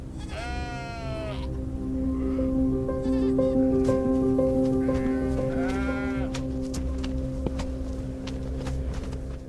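Several Sahara desert goats bleat nearby, wavering cries overlapping against a steady low mechanical hum, loud and close.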